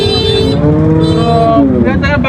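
A cow at a cattle market in Dhaperhat, Bogura, gives one long, loud, close moo that rises and falls over about two seconds.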